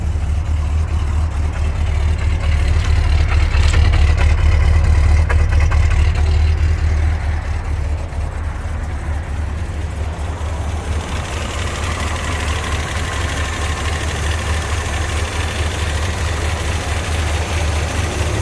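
A 1978 Chevrolet Suburban Custom Deluxe engine runs at a steady, loud, close idle with a deep low rumble and faint knocking texture that eases slightly partway through.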